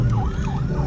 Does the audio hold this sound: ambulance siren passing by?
yes